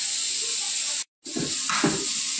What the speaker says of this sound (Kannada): ಉಳ್ಳಾಗಡ್ಡಿ ಒಂದಿಟ್ಟು ಫ್ರೈ ಅಲ್ಲ.